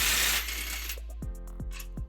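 A hand ratchet fitted with a 19mm socket clicks on a bumper bracket bolt of a 2013 Nissan Xterra, giving a few sharp metallic ratcheting clicks close up over a low steady hum.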